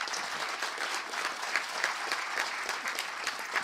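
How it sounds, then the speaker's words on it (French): A room full of people applauds steadily at a ceremony, a dense patter of clapping that carries on evenly throughout. "Une bonne main d'applaudissements encore pour elle."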